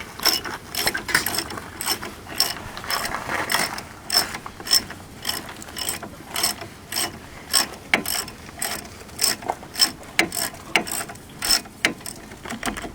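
A hand ratchet cranks on tight brake caliper bracket bolts of a 2002 Dodge Caravan Sport, giving loud, close, rhythmic bursts of clicking pawl strokes repeated steadily for the whole stretch with no voices.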